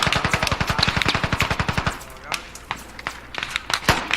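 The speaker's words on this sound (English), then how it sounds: "We got contacts on the east side. They're shooting at us." Gunfire in the military shooter game Squad: a fast automatic burst of evenly spaced rounds for about two seconds, then sparser, scattered single shots.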